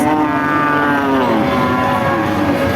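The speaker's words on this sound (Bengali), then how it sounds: "এটা মূলত ফ্রিজিয়ান কুরাস জাতের একটা গরু" A Friesian cross cow at a cattle market moos loudly and close by, one long drawn-out low call that fills the whole moment.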